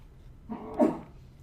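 A single short human sneeze bursts out indoors during a programming lecture, brief and moderately loud against a quiet room.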